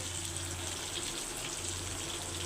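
Water running steadily into a cooking pot for a fish curry, a continuous soft gushing pour at moderate distance with no break and no voices.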